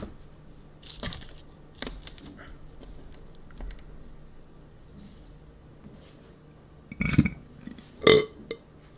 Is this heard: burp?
yes